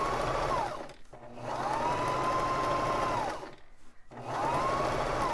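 Baby Lock Zest sewing machine stitching fabric in three steady whirring runs, each rising to a sustained hum and stopping, with short quiet gaps between.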